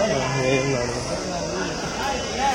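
Sheep bleat repeatedly at a busy livestock market, the wavering cries close and loud, layered with steady crowd murmur and people talking in the background.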